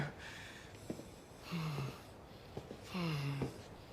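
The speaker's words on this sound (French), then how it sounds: "les mecs se battent, c'est ma foi de l'effort physique, donc bien sûr qu'on va les entendre respirer fort" Fighters in a Dune film strain through heavy, close breathing, with rasping inhales, wheezes and short effortful grunts in uneven bursts.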